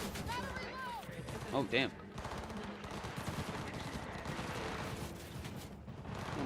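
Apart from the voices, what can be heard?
gang gunfire in Cyberpunk 2077 video game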